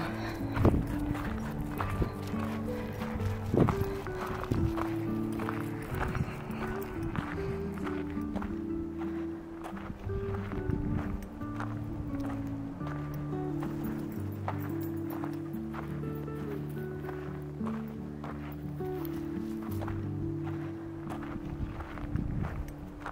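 Footsteps of a hiker walking through woodland, steady crunching steps on the forest floor, close and continuous, with no talking.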